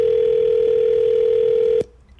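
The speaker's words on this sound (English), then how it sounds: "You don't hang no damn phone up on me." A loud, steady single-pitch telephone dial tone drones after a caller hangs up, then cuts off abruptly with a click, leaving faint background hiss.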